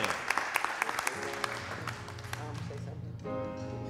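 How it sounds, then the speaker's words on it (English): A church congregation at a Sunday worship service claps in praise, scattered hand claps ringing out under a speaking voice before the clapping fades and talk carries on. "Let's give God another hand clap of praise."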